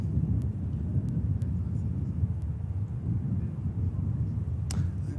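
An Egypt Air Airbus A321neo airliner at Manchester Airport gives off a steady, low engine rumble at a distance, constant through the moment with no voices over it.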